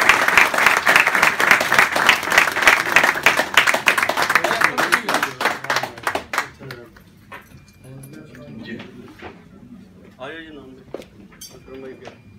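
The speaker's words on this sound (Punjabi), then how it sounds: "ਬਹੁਤ ਸਾਰੀਆਂ ਤਾੜੀਆਂ ਹੋ ਜੀ ਅਮਜੇ ਸਾਹਿਬ ਨਾਲ" An audience at a UK cup event in Peterborough claps loudly and densely, then the applause thins out and a voice takes over.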